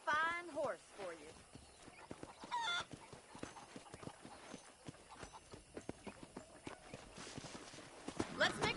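Horse hooves clip-clop steadily in the Red Dead Redemption video game on a ranch, a continuous walking rhythm of muffled hoofbeats with a brief whinny, under a man's and woman's conversation.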